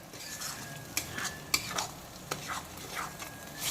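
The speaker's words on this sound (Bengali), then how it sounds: "এখন বেশ কিছুক্ষণ সময় নিয়ে পুরো মশলাটাকে লো টু মিডিয়াম আঁচে কষিয়ে ভাজা ভাজা করে নেব" A spice masala of cumin and onion is stirred and fried on low to medium heat in a pan for a ridge gourd curry with prawns. A steady sizzle runs throughout, with scraping spatula strokes and a few sharp knocks of utensil on pan.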